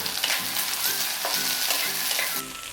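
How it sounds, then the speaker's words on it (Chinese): Baby napa cabbage stir-fried with scallion pieces in hot oil in a wok, giving a loud, steady sizzle with repeated scraping and tossing strokes close up and no voices. "随后倒入切好的娃娃菜，翻炒均匀。"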